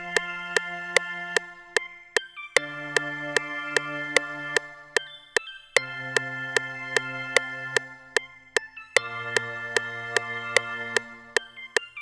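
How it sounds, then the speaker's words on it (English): An airy second organ plays a copied hyperpop chord progression in long, soft sustained chords under a steady ticking pulse of light clicks, close and fairly quiet. "Once I made this, I copy and pasted it into the second organ that I had that's more airy"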